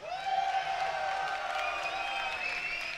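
A crowd at a Combo Breaker 2018 Mortal Kombat 9 top-eight tournament cheers and whoops for a player, a steady roar of voices and clapping with shrill yells riding on top, held at an even level throughout.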